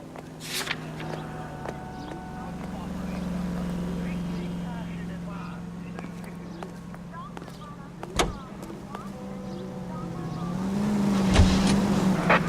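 Car engine droning steadily while driving in the L.A. Noire video game, rising toward the end with a few sharp knocks and clicks, and speech over the top.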